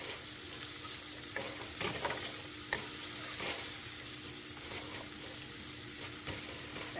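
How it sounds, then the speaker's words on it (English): Onions and peppers sauté in a pan, a continuous close sizzle with a few short bursts of stirring, no one speaking. "And we're going to let the onions cook just until they get translucent."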